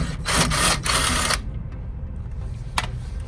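A hand tool works on a 10mm bolt on a Lexus IS250 front strut, giving a few loud close ratcheting bursts in the first second or so, then quieter shop noise with one faint click.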